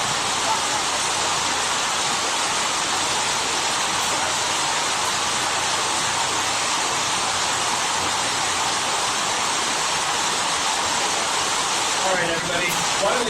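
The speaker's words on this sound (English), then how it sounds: "That sounds like a pretty rain." Heavy rain pours down outside a conference hall in Yogyakarta, Indonesia, heard as a dense, steady hiss that stays loud and unbroken throughout.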